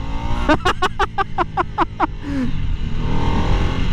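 Harley-Davidson Nightster motorcycle engine close by, giving a quick burst of sharp throttle blips followed by a steady rumbling run.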